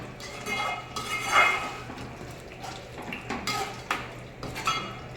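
Spicy chicken fried in a pan with chili powder, with a metal utensil clinking and scraping against the pan in several close, uneven strokes over a soft frying hiss.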